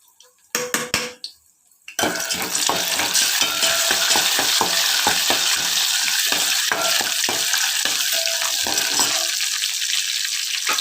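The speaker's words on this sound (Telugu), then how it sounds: "అయితే వేసేసుకున్నాను పోపు దినుసులు ఎండుమిరపకాయలు అయితే వేసేసుకున్నాను" Tempering spices and dried red chillies hit hot oil after a few quiet clicks, then a loud, steady crackling sizzle with popping spatters carries on close up for the rest of the time.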